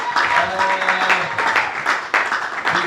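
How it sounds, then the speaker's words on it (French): A church congregation at a deliverance seminar applauds, with a close burst of clapping and cheering that swells and carries on, while voices are mixed in. "Est-ce qu'on peut acclamer pour la parole de Dieu?"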